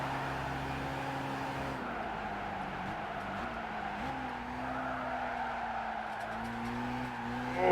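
Balding comfort tyres skid and squeal on a race car in Gran Turismo 5, a steady loud screech layered over a droning engine that shifts pitch a few times and runs unbroken throughout.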